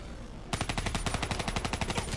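Rapid automatic gunfire in Call of Duty: Black Ops 3, a hardcore Kill Confirmed match on Xbox One, erupting after a brief quiet moment into a fast, steady burst of close, loud shots that runs to the end.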